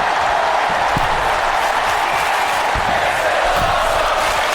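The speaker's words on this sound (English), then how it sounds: "And the crowd's loving it." Loud, constant roar of a live professional wrestling crowd at an anniversary show, with cheering and applause filling the arena and scattered thuds beneath it.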